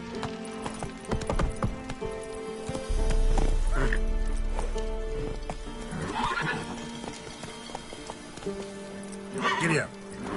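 Hooves clip-clop from Roach, a horse galloping in The Witcher 3 video game, with a neigh partway through, game music, and a voice speaking over the steady rhythmic hoofbeats.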